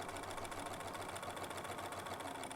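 A quilting sewing machine runs steadily, its fast, even stitching rhythm humming close by without pause while a fancy mashup medallion is sewn.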